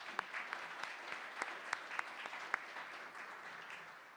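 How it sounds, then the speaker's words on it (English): Audience applause at a civic forum lecture: steady, moderately distant clapping from a crowd, with a few sharper individual claps standing out, lasting throughout. "Please join me in a warm round of applause for all of them."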